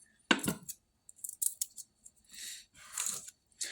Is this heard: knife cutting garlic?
yes